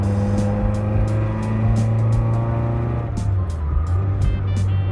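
A Toyota AE86 being driven, its engine a steady droning hum with a strong low tone that drops in pitch partway through as it shifts, plus faint intermittent ticking over the constant road noise.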